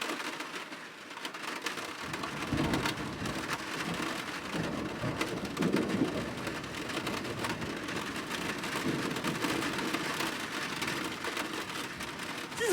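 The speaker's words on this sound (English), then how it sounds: "This is long thunder." Long thunder rolls through a steady rainstorm along the Icefields Parkway in Jasper National Park, a low sustained rumble building under the constant hiss of falling rain, with no one talking.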